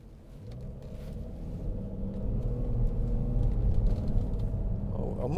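A 2010 Audi Q7 6.0 TDI V12 Tiptronic Quattro cruises on a motorway, heard from inside as a steady low engine and road rumble that swells slightly as it goes.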